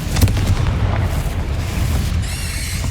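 Confringo blasting spell explosion in the Hogwarts Legacy video game: a loud, deep rumbling boom that swells at the start and rolls on steadily, with a brief whistling tone near the end and no talking.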